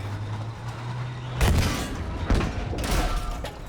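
Heavy booming blasts from a Sherman tank's cannon in Battlefield V, two or three loud thudding shots with rumbling tails over steady engine and battlefield noise.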